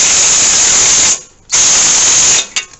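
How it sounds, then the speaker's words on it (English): Impact gun with a 21 millimeter socket tightening a tie rod end nut on a 1998–2003 Ford Expedition or F150, two loud, harsh buzzing bursts with a brief pause between, ending in short stuttering hits, very close. "I happen to have a 21 millimeter right now on a ratchet, on an impact gun."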